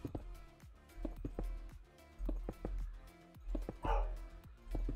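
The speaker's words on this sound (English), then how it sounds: "hate barking dogs" A dog barks in a run of sharp, repeated yaps and woofs with brief whimpers mixed in, close and fairly loud, in a Minecraft survival server setting with a faint voice now and then.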